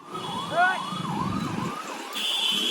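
An ambulance siren wails in rising and falling sweeps throughout, fairly close, over steady city traffic rumble in Surat, India, with a higher electronic tone joining near the end.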